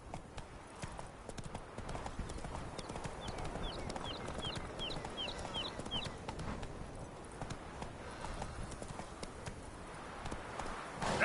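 Roach, a horse in The Witcher 3, gallops with a steady, rapid clip-clop of hooves, close and continuous, under a faint outdoor ambience with brief bird chirps.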